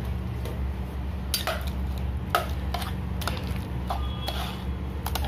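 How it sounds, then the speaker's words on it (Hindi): Tomatoes stirred into ragda, a boiled, oil-free dried pea curry, in a pot: scattered clinks and scrapes of a spoon against the metal over a steady low kitchen hum. "इसे अच्छे से मिक्स करेंगे।"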